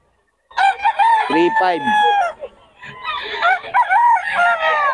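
A young gamecock stag crows twice nearby with loud, ragged cock-a-doodle-doo calls, and a voice speaks briefly between and over the crows.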